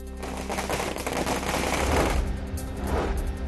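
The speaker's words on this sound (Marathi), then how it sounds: "कार्यकर्त्यांनी फटाके वाजवून जल्लोष साजरा केला" Firecrackers set off by party workers celebrating in Baramati, a rapid crackling string of bursts like a fusillade, fairly distant and continuous for a few seconds.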